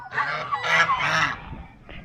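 A turkey gobbles loudly in rapid, rattling bursts close by while chasing people, the calls tumbling together for about two seconds before fading.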